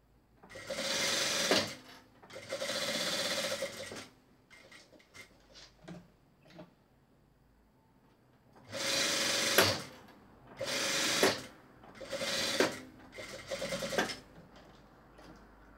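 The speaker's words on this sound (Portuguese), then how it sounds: "Vou fazer um pesponto aqui pelo lado da entretela. De um pezinho de máquina." A sewing machine topstitches knit fabric for a chemise dress along the interfacing side, running in several loud bursts of steady whirring with short quiet pauses and faint handling between, no talking.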